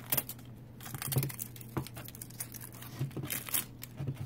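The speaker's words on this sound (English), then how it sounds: "There's another piece of tape over here that I have to remove." Tape peeling and crinkling off a budget micro laser engraver, a series of short dry crackles and rips close by, with a low steady hum running underneath.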